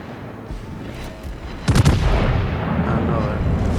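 The German battleship Mecklenburg fires a heavy salvo in World of Warships, a sudden loud booming burst midway that rolls into a rumbling tail, with someone talking around it.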